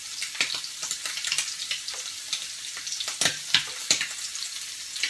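Shrimp and zucchini sizzle and fry in a pan, a steady crackling hiss punctuated by sharper pops and stirring clicks, close and alone without voices.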